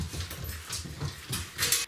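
Dog whimpering and yipping in short, repeated bursts, fairly close and moderately loud, with no talk over it; two dogs share the space.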